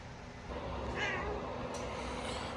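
A cat gives a single short meow near the one-second mark, heard over the steady hum of a car waiting in a Taco Bell drive-thru line.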